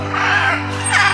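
A yellow macaw in a zoo aviary gives harsh, raspy calls, two loud close squawks with a strong low hum running beneath them.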